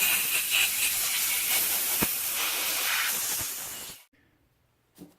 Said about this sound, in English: Now we're gonna just use some compressed air and rinse them or dry them off